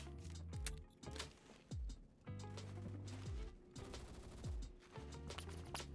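Rapid bursts of gunfire crack repeatedly in Roblox Phantom Forces, fairly loud and close, with sharp shots and short pauses between volleys.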